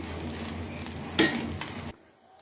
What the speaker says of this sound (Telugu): ఇప్పుడు ప్యాన్లో మనం తయారు చేసిన బ్యాటర్తో గుంట పనులను వేసి